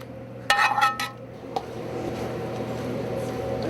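Stir-fried homemade kimchi is mixed into cooled rice in a pan, giving a few clinks and scrapes of a utensil against the pan early on, then a steady soft sizzle-like hiss, close by.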